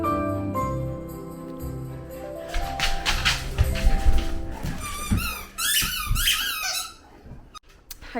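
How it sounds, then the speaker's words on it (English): A squeaky ball toy is squeezed repeatedly, giving a burst of high, rhythmic squeaks in the latter half over steady indoor room sound, with some soft thumps and handling noise earlier. "got a squeaky ball, so ignore that"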